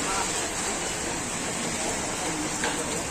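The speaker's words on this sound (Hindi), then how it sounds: "देखिए दोस्तों बहुत बारिश हो रहा है" Heavy rain pours steadily in a rural village setting during a downpour, a dense continuous hiss with no breaks.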